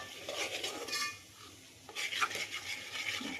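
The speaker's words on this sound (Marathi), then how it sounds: "मसाले टाकून घेऊ आणि आपण आपल्याला फिरवून घेऊ" A spoon scrapes and clinks around a cooking pan as spices are stirred in for a Maharashtrian chicken curry, a few quick metallic strokes with soft frying underneath, close and fairly quiet, no talking.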